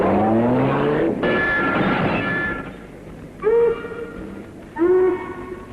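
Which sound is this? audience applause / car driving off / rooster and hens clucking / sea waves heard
car driving off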